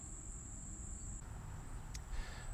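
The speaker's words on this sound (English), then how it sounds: "In this yard, most of what we have are field cricket, which is a fairly common species" Field crickets chirp in a yard at night, a continuous high, thin trill that runs steadily and fairly faint, with a brief extra chirp layered in partway through.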